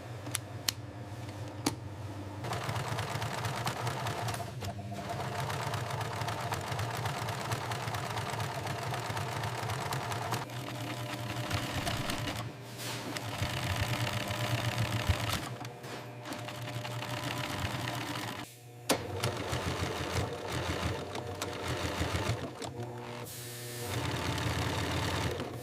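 Continuous mechanical whirring of a heavy-duty sewing machine stitching thick seams in shearling sheepskin leather, running in long bursts, with brief pauses and stops between stitching runs.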